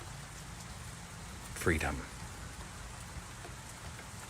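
Steady rain falls in a continuous, even hiss of drops across the whole stretch, while a soft voice speaks briefly over it in the middle.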